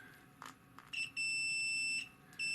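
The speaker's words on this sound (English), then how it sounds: "when I touch both probes, it makes a beeping noise" A multimeter's continuity tester sounds a high electronic beep twice as its probes touch a dryer heating element, a long steady tone followed by a second that starts near the end, clean and close with faint clicks before.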